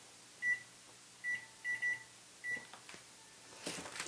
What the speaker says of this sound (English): And I'll set my timer.